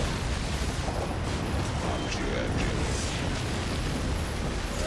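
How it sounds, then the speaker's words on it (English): Unit explosions in StarCraft 2 co-op on the Temple of the Past map with Tychus, a dense, continuous roar of booms and bursts layered over game noise throughout. "the explosions from the units killed the battlecruiser"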